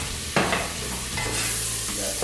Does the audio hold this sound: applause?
no